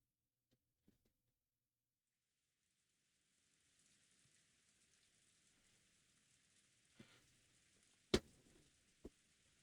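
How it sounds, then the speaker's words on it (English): Rain falls as a sound effect in the visual novel Umineko no Naku Koro ni: a faint, soft hiss fades in and holds steady, with a few sharp ticks and knocks near the end. "Yes, it must be the sound of rain."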